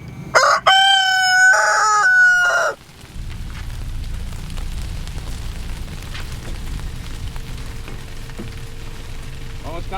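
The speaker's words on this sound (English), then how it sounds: "the rooster is interrupting me while I'm trying to film" A rooster crows twice in quick succession, close and loud, at the start, then gives way to quiet outdoor background hiss beside a lake.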